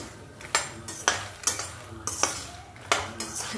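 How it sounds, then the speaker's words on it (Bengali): Makhana (fox nuts) dry-roast in a dry pan with repeated scraping and clinking strokes of a utensil against the metal, a roughly regular rhythm close by. "মাখানা ভেজে নেওয়া হচ্ছে।"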